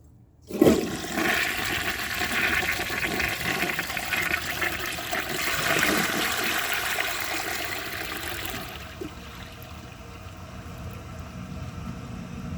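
A 1939 Standard Modernus toilet flushes with a sudden loud rush of water that roars steadily for several seconds, then drops to a softer trickle as the bowl refills.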